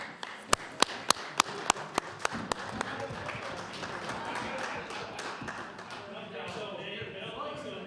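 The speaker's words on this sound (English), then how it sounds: "So I would ask if all members would give the appropriate applause to Mr. McGilvery as he rises" Members of a House of Assembly applaud a guest rising in the gallery: several sharp, evenly spaced taps ring out, then give way to sustained, moderately loud clapping across the chamber while a voice carries on.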